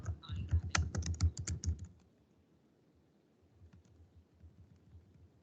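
Quick bursts of clicky keystrokes on a computer keyboard fill the first two seconds, then only a few faint, scattered taps follow.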